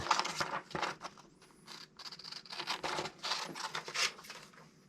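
Scissors snip through a paper ski binding mounting template sized for a 305 mm boot sole, a series of close, quiet crisp cuts in uneven bursts with no talk.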